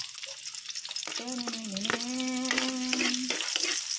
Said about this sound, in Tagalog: Magigisa tayo ng sibuyas.